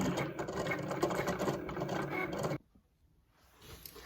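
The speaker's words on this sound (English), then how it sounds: "now that the Cricut is done cutting out the design" A Cricut Explorer cutting machine cuts a vinyl design, giving a close, busy mechanical whirring and clicking that runs for about two and a half seconds, then drops to a faint hum, with no talking.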